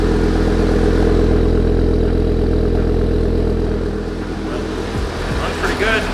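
A steady, loud engine idle with a clattering mechanical rhythm, run with no coolant lines connected and a suspected coolant or exhaust leak; the drone eases slightly near the end, with a little voice faintly underneath.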